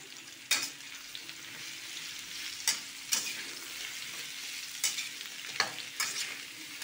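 Filipino vegetable dish sizzling in a pan as it is stirred, a soft steady fry hiss broken by several sharp scraping strokes of the utensil at irregular intervals, close and fairly quiet.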